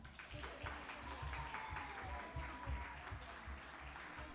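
Audience applause at a Chinmaya Vrindavan live program for the young narrators, steady moderately distant clapping throughout, with a faint tone and low murmur beneath.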